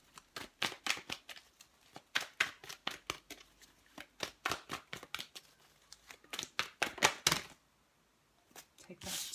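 Tarot cards shuffled and drawn from a deck for an Aries reading, a rapid run of crisp riffling snaps and slaps, loud and close, ending in a brief pause and a final few flicks.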